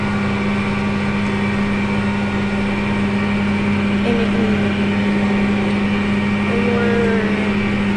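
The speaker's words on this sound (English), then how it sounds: "This is a 1790 John Deere planter and a 8320R John Deere tractor" A John Deere 8320R tractor pulling a 1790 planter runs steadily in a cornfield, a loud, close, even diesel drone with a strong low hum and occasional faint whistle-like tones riding over it.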